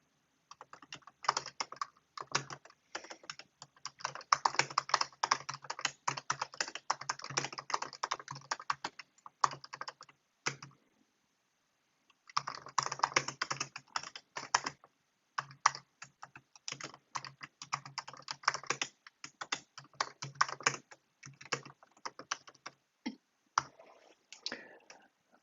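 Computer keyboard clattering steadily as a MySQL query is typed, with quick close key clicks in bursts and a short pause near the middle.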